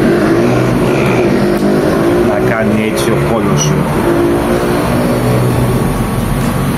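Cars with loud exhausts roar past outside during an unboxing of an HP Victus 15 laptop. The heavy engine rumble continues throughout and swells as vehicles go by, while someone speaks Greek close up over it.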